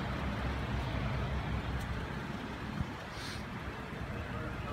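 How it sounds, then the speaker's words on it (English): Steady broadband roar of roadway traffic outdoors at a car lot, constant and moderately loud with a brief passing swell, with a voice speaking over it. "Don't mind the traffic noise in the background,"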